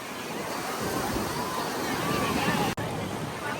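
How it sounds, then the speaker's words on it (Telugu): Strong sea waves roar continuously onto Puri beach while heavy wind buffets the microphone, making a loud, dense wash of surf. A brief dropout breaks it near the end, and faint crowd murmur sits beneath. "బీచ్ చూడండి, అలలు ఘోరంగా వస్తున్నాయి, గాలులు కూడా ఘోరంగా వస్తున్నాయి"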